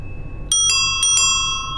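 An onthel bicycle bell rings four quick, bright dings close by, with a low background hum and no talking.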